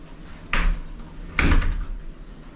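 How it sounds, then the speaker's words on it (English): An interconnecting door in a Disney Wish cruise ship cabin swings and latches twice, two sharp nearby thumps with a short rattle, the second louder and followed by a brief creak. "That must be an interconnecting door."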